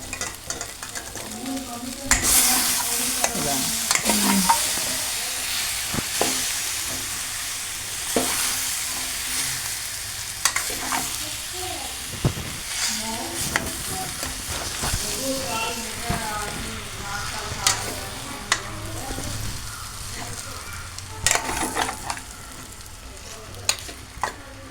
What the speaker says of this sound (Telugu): కొత్తిమీర కూడా వేసుకొని మొత్తం అంతా కలిపి ఫ్రై కొంచెం అవ్వాలి